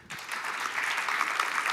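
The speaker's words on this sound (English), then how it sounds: "Applause." Audience at an energy-industry conference applauds as the speaker returns for questions: steady, moderately distant clapping from a room of people, fairly soft and even throughout, with no talking.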